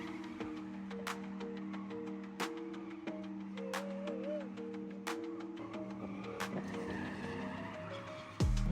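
A truck spinning donuts in the middle of a road, tires squealing in long wavering runs over steady engine noise, with a louder burst at the end.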